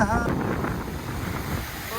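Strong wind gusts and drizzling rain at Patenga sea beach, a loud continuous roar of wind buffeting the microphone with surf-like rushing beneath.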